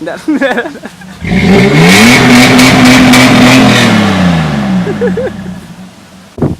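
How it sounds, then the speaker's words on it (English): Lifted Toyota Tacoma SR5 pickup revving hard during a burnout, a loud sustained engine roar rising and holding for several seconds before easing off, with people talking briefly before and after. "He'll rev, no matter what his angry neighbor says."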